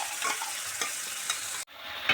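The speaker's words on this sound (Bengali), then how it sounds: "সেই গ্রেভিটা ঢেলে দেব।" Gravy poured into a pan of paneer for paneer butter masala, a steady bright sizzle with a few soft stirring scrapes, briefly cut off near the end and then resuming, no voices.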